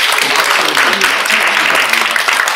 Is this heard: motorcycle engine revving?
no